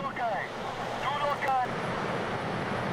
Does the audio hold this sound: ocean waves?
yes